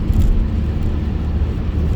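Car cruising at about 50 through rain and gusting wind, a steady loud low rumble and broadband road and wind roar from inside the cabin, continuous with no talk.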